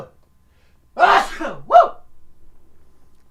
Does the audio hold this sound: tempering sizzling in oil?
no